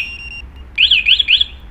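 A loud motorcycle alarm wails in rising-and-falling bursts, sounding briefly, pausing, then sweeping up and down twice more, close and piercing.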